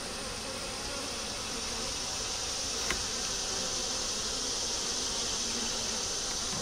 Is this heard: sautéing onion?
no